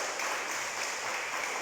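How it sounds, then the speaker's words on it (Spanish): Congregation applause fills a church service, a dense, steady wash of clapping with no break for the whole short stretch. "Le damos un aplauso a Dios, hermano, al Espíritu de Dios"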